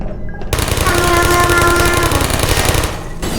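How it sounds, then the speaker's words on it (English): A Portal turret fires a rapid, steady burst of automatic shots that starts abruptly and runs for nearly three seconds at close range before cutting off, with no talking over it. "the friendly yet deadly turrets who apologize when you kill them and tell you to say hello before they shoot you"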